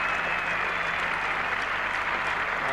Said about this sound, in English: the roar of applause greeting the headingly hero, Ian Botham.